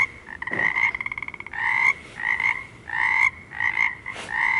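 Frog croaks sound close and loud in a series of bursts, one rapid rattling trill followed by several longer, nasal croaks separated by short pauses.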